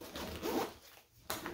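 A zipper on an Osprey Stratos 34 or Gregory Zulu 30 hiking backpack is pulled open in two quick, close rasping strokes with a brief pause between them.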